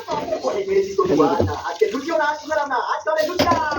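Hot water is poured into a pot of cooking mutton, a splashing, gurgling pour heard under a person speaking.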